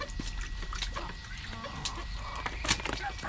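Backyard chickens cluck and murmur in a scattered, irregular way at close to moderate distance, mixed with soft rustling and handling noises, with no talking.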